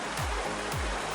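Tamaraw Falls in Puerto Galera, Oriental Mindoro, gives off a steady, loud rushing roar of falling water with a couple of brief low thumps beneath it.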